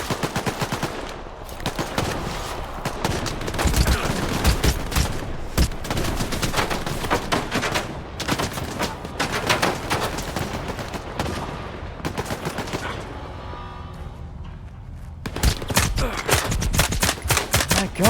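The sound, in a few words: submachine gun fire in video game S.T.A.L.K.E.R. 2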